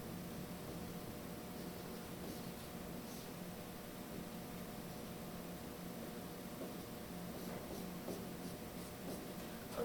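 Handwriting on paper while marking up a music score: faint, steady scratching and rubbing strokes over a constant low background hum, with no talk.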